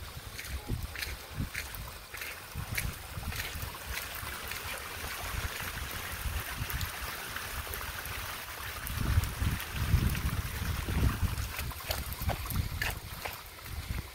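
Water trickles steadily from a crack in a rock retaining wall, fed by runoff from the mountain behind a house, a continuous outdoor wash of flow mixed with gusty wind noise.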